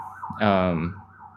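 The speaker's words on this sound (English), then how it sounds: "If you can hear the siren, this one's different." A short wailing siren swell rises briefly and fades, with a low murmur of sound around it.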